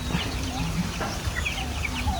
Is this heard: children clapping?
no